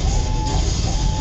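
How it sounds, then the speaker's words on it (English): Tesla cannon firing in the video game Boiling Point, a dense continuous electric crackle and hum with a steady high whine, loud and unbroken throughout, no talk. "what you're hearing is our Tesla cannon"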